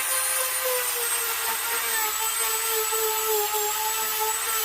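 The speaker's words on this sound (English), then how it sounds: "Got my Dremel tool, my little sanding mechanism" A steady high-pitched whine of a Dremel rotary tool sanding a carved wooden bass guitar body, running continuously with a constant broadband grinding hiss and no pauses.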